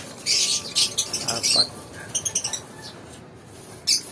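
Pet parakeets kept indoors give short, high chirps and tweets in quick bursts, close by. A person's voice and light patter can be heard in the background.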